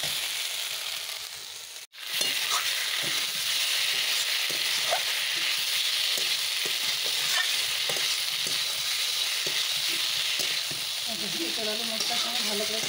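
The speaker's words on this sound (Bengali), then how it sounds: "আলু মশলার সঙ্গে ভালো করে কষানো হয়ে গেছে," Potatoes sauté with spices in a pan with little oil, giving a loud, steady, close sizzle and hiss. Scattered spatula scrapes and clicks run through it, with one brief break near the start.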